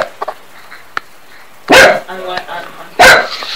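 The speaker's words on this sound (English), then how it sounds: "the dog's barking" A Jack Russell terrier barks twice, loud and close, with short sharp bursts about a second apart over a quiet indoor background.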